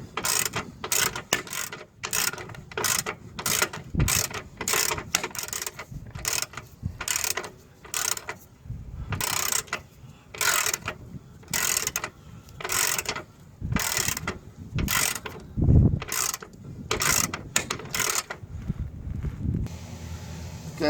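A ratchet works loose a long suspension bolt on a 2008 car, clicking in steady repeated strokes close by for about twenty seconds, with occasional thumps between strokes.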